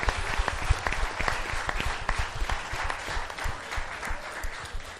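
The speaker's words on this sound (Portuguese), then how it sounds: "Oh, aplauda o Senhor. Aplauda com toda a tua alma." Church congregation clapping in praise during a worship service, a loud, dense burst of applause from many hands, sustained and fairly even for several seconds.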